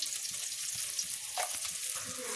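Boiled soybeans dusted with turmeric fry in hot oil, a dense close sizzle crackling evenly throughout with a brief stirring scrape in the middle and no voices.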